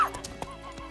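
A horse in The Witcher 3 gives a short, faint whinny with a soft hoof clop, brief and fairly close.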